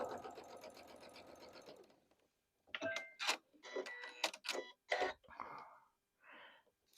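A sewing machine stitches a quilt block along the bias, a close steady mechanical whir for about two seconds, followed by quiet pauses and short bursts of fabric handling and rustling.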